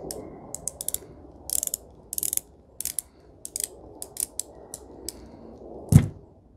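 The screw holding the flat spring on an Uberti revolver is loosened, giving a series of small, close metallic clicks and ratcheting ticks in irregular bursts, ending with one louder knock.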